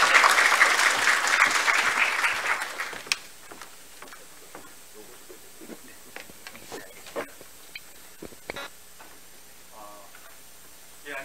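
An audience at a military academy admissions briefing gives loud clapping that lasts about three seconds and then stops abruptly, leaving a quiet room with scattered knocks and shuffling.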